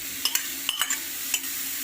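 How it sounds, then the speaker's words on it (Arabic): Tomatoes, peppers and onion sizzling in a pan while being stirred, a constant bright hiss broken by several quick scraping clatters of the utensil. "ونقلب قلوبه"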